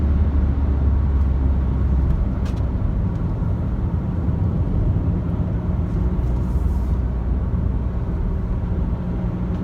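Škoda Karoq Style 2.0 TDI 4x4 accelerating along a wooded road, heard from inside as a steady, loud broadband engine and road roar with deep low rumble, constant throughout.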